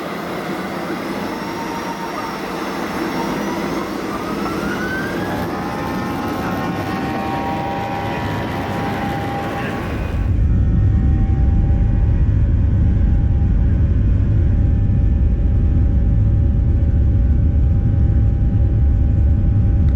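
Steady engine roar fills the cabin of an Alaska Airlines Boeing 737 in flight, with faint tonal whines early on before the drone abruptly thickens into a louder, deeper, continuous rumble.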